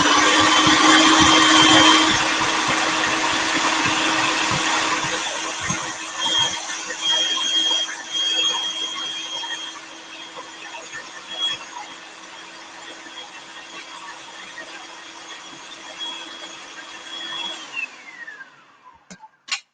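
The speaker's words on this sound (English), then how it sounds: "When your food processor is going, when your stuff starts to come up on the sides and everything's not processing down at the bottom" A food processor whirs loudly and steadily as it blends a dip with olive oil, its motor tone holding even for a long stretch before spinning down at the end, near and with no voices.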